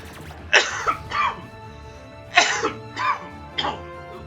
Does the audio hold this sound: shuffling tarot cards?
no